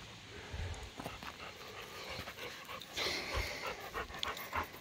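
A shop dog pants steadily at close range in a repair shop for an RV and motorcycle hitch carrier, with rapid rhythmic breaths over low background noise and no talking.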